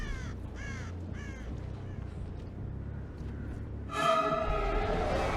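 Crows caw in the Dead by Daylight video game, a few harsh calls in quick succession followed by a louder, closer burst of cawing over a low rumbling game backdrop.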